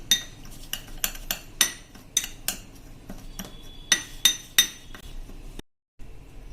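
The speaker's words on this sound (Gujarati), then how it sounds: "આ બધું આપણે સરસ મિક્સ કરી લેશું" A spoon stirs seasoned sweet corn kernels with salt in a bowl, striking the rim in a quick, uneven series of sharp, ringing clinks and soft scrapes close by. A short silence comes near the end.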